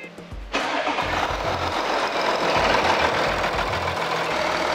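A used Audi A7 engine cranks and catches after a brief quiet moment, then settles into a loud, steady idle heard close up, no talking.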